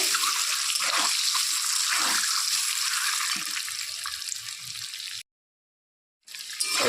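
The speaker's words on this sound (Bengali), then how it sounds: "ডিমগুলোকে একটু ভেজে নেব।" A loud, steady hiss of eggs frying in oil, broken by a brief silence near the end before the sizzle resumes.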